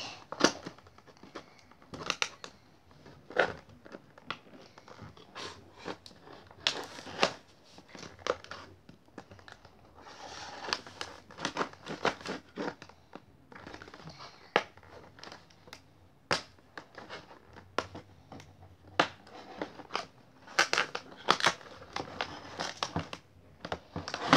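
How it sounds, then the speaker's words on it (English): Something is being cut open by hand. Close crinkling, crunching and tearing sounds come in irregular bursts, with sharp snips and cracks scattered throughout. Quiet and intermittent, with no talk. "I think I could try to get it open. Just cut through it."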